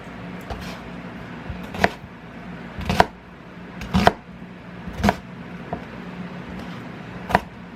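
A knife chops onion on a cutting board in sharp, distinct strikes about once a second, close and clear over a low steady background hum.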